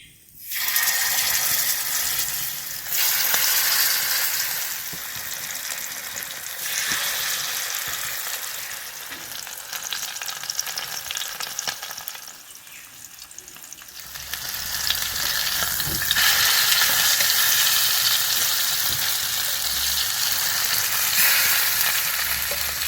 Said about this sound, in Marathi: आता आपण तळून घेऊया